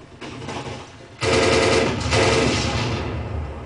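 Video game gunfire: a quieter volley, then loud, sustained automatic bursts with rapid overlapping shots that dominate the rest of the clip.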